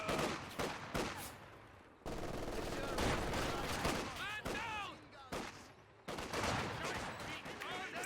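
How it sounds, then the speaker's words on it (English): Machine gun fire rattles in Company of Heroes 2, bursts of rapid shots and explosions recurring throughout amid dense battle noise, with a commentator talking over it. "This machine gun is holding out in the garrison"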